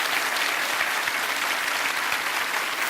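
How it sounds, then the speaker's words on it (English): A television quiz-show studio audience applauds, steady dense clapping at moderate level filling the whole moment without speech. "Give John a big round of applause"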